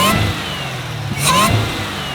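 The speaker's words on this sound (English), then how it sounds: "I'm gonna rev it so you guys can hear that little whine" A Camaro ZL1 V8 with an aftermarket air intake and muffler delete is revved close up, with two quick throttle blips over a rumbling idle and a faint intake whine rising with each.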